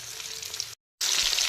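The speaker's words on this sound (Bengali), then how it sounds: "হলুদ মাখিয়ে রাখা চিকেনের পিসগুলোকে আমি ভালো করে মিডিয়াম ফ্রাই করে নেব।" Turmeric-coated chicken pieces frying in plenty of oil in a pan, a loud close hiss of sizzling that cuts to a brief silence, then resumes just as strongly.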